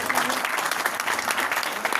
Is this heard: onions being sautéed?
no